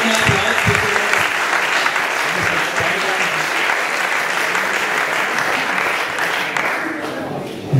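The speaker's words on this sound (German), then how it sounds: "Lauten Applaus" Loud, sustained applause from a crowd at a strategy workshop in Linz, thick continuous clapping holding steady before easing slightly near the end, with a little voice murmur early on.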